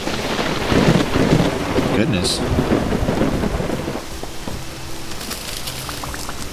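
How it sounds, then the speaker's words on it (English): Thunderstorm in the survival game Vintage Story: heavy steady rain pours with a deep rolling thunder rumble that fades out, leaving lighter rain patter, while a voice briefly murmurs a word. "I think we've just walked into the storm."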